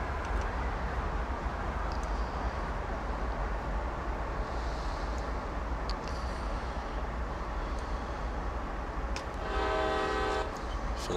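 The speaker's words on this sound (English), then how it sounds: "I need to sit here and sound the horn twice" A CSX freight train's horn in the Train Sim World video game sounds once near the end, loud and sustained, over a continuous low rumble of the heavy-haul locomotive idling in a rail yard.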